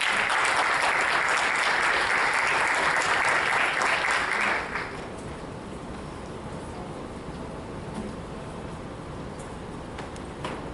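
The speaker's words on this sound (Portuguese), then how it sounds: "Eu pedi uma salva de palmas para o Sérgio." Audience applause for a speaker at a data visualization talk: dense, loud clapping for about five seconds that thins abruptly to a lighter scattered patter and fades.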